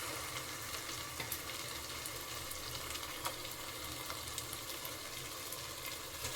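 Marinated chicken sizzles and fries in a pan for chicken biryani with ginger, garlic and mint, a steady close crackle with faint stirring scrapes and no voices.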